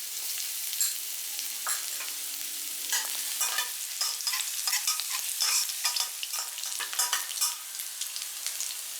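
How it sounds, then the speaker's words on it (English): Chopped garlic frying in hot oil, a bright continuous sizzle with crackling pops and occasional stirring scrapes, close and steady throughout. "Fry the chopped garlic with oil until brown."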